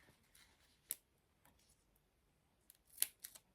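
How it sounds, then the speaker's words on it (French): Quiet, close snips of scissors cutting while making a card: a sharp cut, a softer one, then a quick cluster of two or three snips near the end. "une paire de ciseaux"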